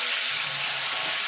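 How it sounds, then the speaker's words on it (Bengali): Prawns fry in hot oil with a steady, bright hiss and sizzle, close and even throughout, with no talking. "এবার চিংড়িগুলো ভেজে নেব।"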